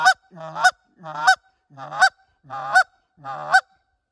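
Short reed Canada goose call blown in five quick, evenly spaced clucks, each a clipped two-part honk-to-cluck note, close and clear with silence between.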